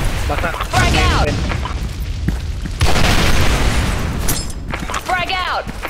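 A frag grenade bursts in the online shooter Soldier Front 2 as a loud, dense boom. Broadband explosion noise surges over and over amid combat clatter, and a voice shouts in between.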